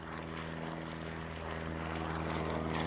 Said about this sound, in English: an historic gathering of half of the world's airworthy Hawker Hurricanes